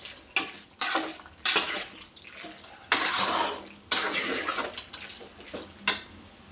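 Starchy pasta cooking water is poured from a pan into a white sauce while cooking. Repeated splashy pours and sloshes come up close, with light clinks of a metal utensil against the pot between them.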